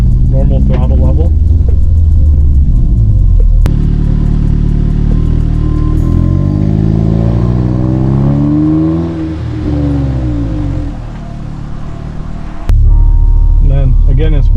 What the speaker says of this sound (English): in with the transmission in sport mode, just pulling away at kind of normal throttle level